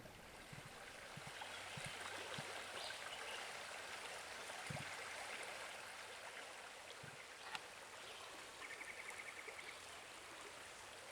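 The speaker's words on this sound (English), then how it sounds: "we are not going to follow the creek because it's flowing pretty good." A creek running strongly, a steady close rush and babble of flowing water that continues unbroken, with a few faint knocks beneath it.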